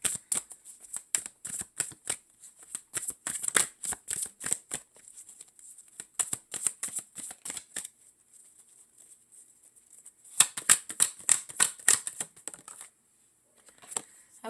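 Tarot and oracle cards shuffled in bursts of crisp, rapid riffling flutters, close and clear, then a quiet pause before another flurry of shuffling and a final soft card sound, with no talking.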